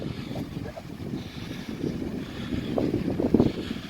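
Ocean waves wash onto a windy Gulf beach at Madeira Beach, a rough, continuous surf roar mixed with gusting wind buffeting the microphone, fairly close and with no voices.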